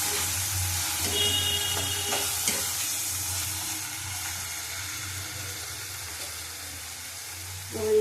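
Ginger and garlic paste sizzles and sautés in a pan as it is stirred, a steady close frying hiss with light scraping throughout, no talking.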